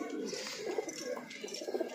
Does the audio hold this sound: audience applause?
no